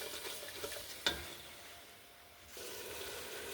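Dried fish curry with tomato and yogurt is stirred in a pan, a faint, soft scraping and gentle sizzle with one sharp utensil knock near the start, heard alone without voices.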